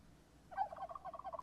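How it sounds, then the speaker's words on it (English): Turkeys gobbling in the video game Project Zomboid, a short burst of several rapid gobbles heard at moderate distance, fairly faint against a quiet background. "Turkeys?"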